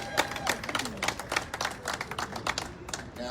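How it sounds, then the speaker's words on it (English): Crowd applause at an outdoor rally for cancelling student debt, scattered sharp claps at moderate distance, fairly thin and sustained, with a voice mixed in. "Now that I've gotten the appropriate applause with the mask."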